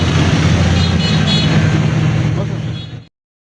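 Dense roadway noise from a traffic jam on busy streets during Ramadan, a loud continuous rumble of cars and trucks with car-horn toots mixed into the crowded din, cutting off abruptly near the end.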